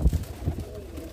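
Soft, low coos from Saharanpuri pigeons for sale pulse a few times in quick succession, close by and fairly quiet, with no voices over them.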